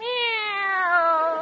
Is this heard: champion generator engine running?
no